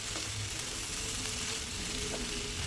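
Eggs sautéing in a spice masala make a steady, even sizzle of moderate loudness with faint stirring, no voices.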